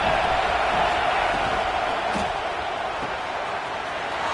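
Football stadium crowd at a Notre Dame game roaring and cheering as the defense is pressed, a dense steady wash of massed voices with no clear breaks, loud and continuous.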